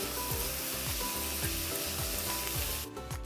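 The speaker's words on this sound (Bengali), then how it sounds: "এই ডিমটা ভেজে নিয়ে আমি ওই ঘরেতে বাঁধাকপির তরকারিটা বসাবো" An egg frying in a pan on a home kitchen stove, a steady close hiss of sizzling oil with soft rhythmic low scraping or stirring strokes, no talking.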